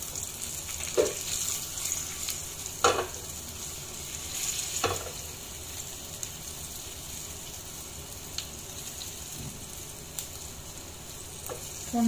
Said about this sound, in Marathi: फोडणी चांगली होऊ द्यायची आहे।